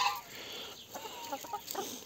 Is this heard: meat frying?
no